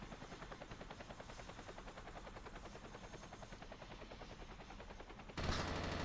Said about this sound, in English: I will try and figure out how to turn off the helicopters